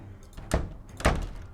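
A door aboard a mystery ship in a Nancy Drew adventure game, heard as two heavy, close thuds about half a second apart.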